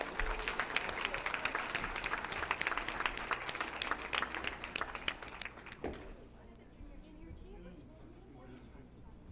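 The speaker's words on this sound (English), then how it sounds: "let's give them a round of applause as well" An audience applauds the volunteer awards committee at an Aboriginal recognition awards night, with dense, sustained clapping that fills the hall for about six seconds, then drops off abruptly to a quieter room murmur.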